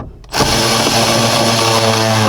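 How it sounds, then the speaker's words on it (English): A battery-operated ratchet starts up after a brief quiet moment and runs steadily with a loud, high motor whine and buzzing gear tone, close up and alone. "a battery operated ratchet"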